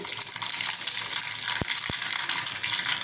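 Mustard seeds tipped into hot oil for a sambar tempering set off a steady, bright sizzling hiss, punctuated by two sharp popping clicks close together partway through.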